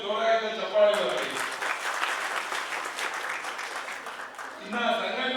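An audience at a Karnataka public education department staff association installation and award ceremony claps loudly for farmers, a full burst of applause of about four seconds framed by amplified speech before and after.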